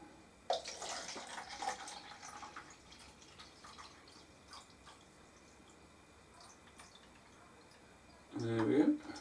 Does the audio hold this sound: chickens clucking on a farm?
no